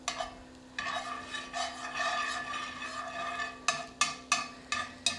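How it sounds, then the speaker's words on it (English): Garlic sautés in a pan over medium heat while a utensil stirs it, giving a quiet steady sizzle with repeated scraping strokes that become sharper and more rhythmic toward the end, close up and with no talking. "we're just going to add in our garlic and sweat all that good garlic flavor out"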